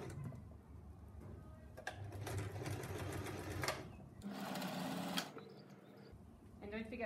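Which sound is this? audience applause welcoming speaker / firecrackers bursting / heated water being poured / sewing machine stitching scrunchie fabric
sewing machine stitching scrunchie fabric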